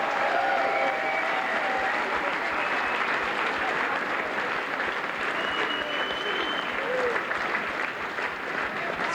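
A large Galway crowd applauds Mayo man John O'Mahony at a Gaelic football gathering, dense sustained clapping with scattered cheers and faint voices throughout.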